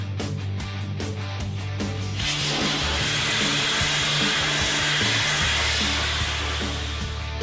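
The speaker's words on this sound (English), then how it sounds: "So far, I haven't seen anything the dustless blaster can't remove" A dustless blaster sprays abrasive onto a cement mixer to strip its paint, starting after a rhythmic mechanical thumping and becoming a loud, steady, broad hiss that fills the space.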